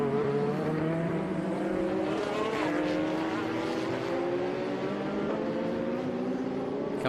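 Race cars at Austin SpeedTour in SVRA and Trans Am racing roar past together, several engines droning and rising in pitch as they close in and pull away, loud and continuous with no talk.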